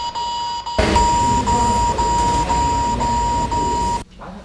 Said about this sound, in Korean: 전화를 건 사람의 목소리가 바로 분석되고 보이스피싱이라는 경고 알림이 뜹니다.